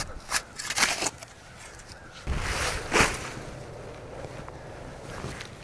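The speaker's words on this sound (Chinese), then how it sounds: "现在的风实在是太大了，明天还会刮大风" Strong wind buffeting the microphone in rough gusts, roaring surges rising and falling with no voices.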